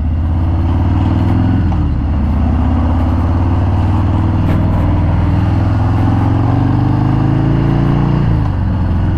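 A 2018 Harley-Davidson Fat Bob Black Denim ABS with a Softail-family engine idling close by, a loud, deep, continuous rumble with slight swells in throttle.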